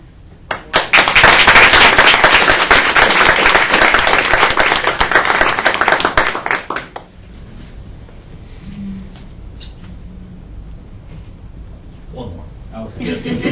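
An audience claps at a school board of education meeting, a loud, dense burst of many hands lasting several seconds before cutting off abruptly, followed by quiet room tone with faint talk.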